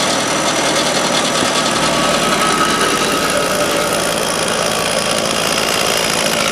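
Stump removal machine's engine runs steadily on a chilly property, a loud continuous mechanical drone with knocking vibration, no talk over it.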